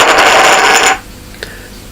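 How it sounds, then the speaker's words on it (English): Premium Chip Theory Games poker chips fall on a floor in a loud clattering burst of bright, clinking impacts for about a second, then stop abruptly, followed by one faint clink. "That was the sound of some premium health chips hitting the floor."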